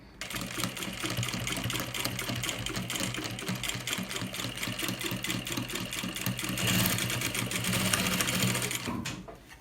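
A sewing machine stitches slowly over a strap holder on a baby's outing bag, running steadily and close throughout with a rhythmic mechanical chatter and a slight rise in intensity near the end before stopping.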